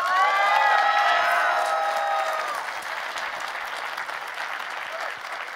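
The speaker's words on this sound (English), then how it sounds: "Let's give him a round of applause." A crowd applauds steadily at the RuneFest 2017 keynote, the clapping loud at first and then easing off, with a few voices cheering briefly near the start.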